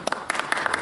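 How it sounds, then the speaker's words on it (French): An audience at a comedy magic show applauds in a brief burst of scattered claps, close and fairly loud, lasting under a second. "On applaudit."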